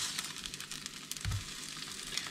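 A Lithuanian potato pancake sizzles in a frying pan just after being flipped: a steady, bright frying hiss with one brief low thump partway through.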